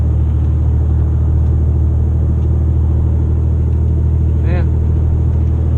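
An old E-85 Grand Prix engine with nearly 200,000 miles and a shift kit, running healthy at a steady idle: a continuous low rumble close by, with speech over it.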